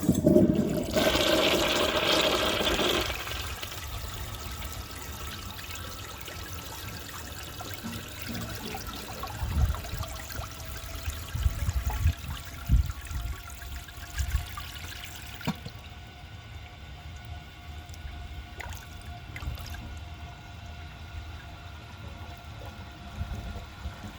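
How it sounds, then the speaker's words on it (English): A 1966 Crane Whirlton low tank toilet flushes a dish towel with a loud opening rush and swirl, then a weaker gurgling drain and trickling refill running for about twenty seconds. "This toilet does not have great siphon power."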